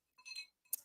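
A glass clinks during a casual drinks session: a brief, bright ringing tap stands out sharply after a softer, faint tinkling, all close by with no talking.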